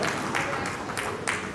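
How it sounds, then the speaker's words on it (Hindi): Applause from a crowd at an installation ceremony, a steady wash of many hands clapping with no pauses, fairly loud throughout. "जोरदार तालियां आगे भारतवासी साहब के लिए"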